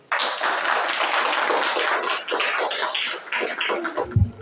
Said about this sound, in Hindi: इनके लिए एक बार ताली हो जाए।